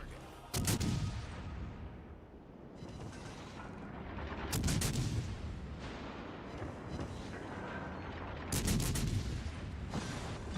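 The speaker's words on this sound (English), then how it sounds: "All stations concentrate fire on the target." Naval ship guns fire in World of Warships Legends, three loud broadside salvos roughly every four seconds with rumbling booms trailing off over a steady engine and sea drone.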